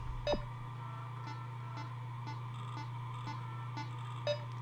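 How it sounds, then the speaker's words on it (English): Calibration beeps in the Rhythm Doctor video game, short evenly spaced electronic pips about every half second over a constant low hum, with a couple of slightly louder clicks. "Please turn your volume up to hear the beeps."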